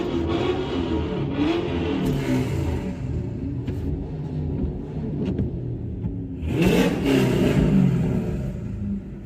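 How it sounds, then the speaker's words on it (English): Loud trucks drive past on a snowy road during heavy blowing snow in Virginia, a continuous engine rumble and tire roar that swells near the end as one passes close. "These trucks are loud."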